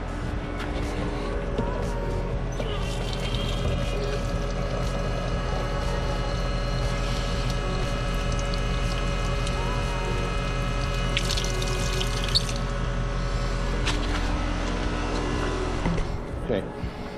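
Water pours and splashes steadily for wet sanding the headlights of a Honda S2000 during restoration, a continuous close rushing that ends with a brief clatter.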